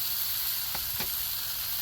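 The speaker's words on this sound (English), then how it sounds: "It's still sizzling. It's cooking." Steady, close sizzling hiss of food frying on a hot Blackstone griddle, with a couple of faint soft taps partway through.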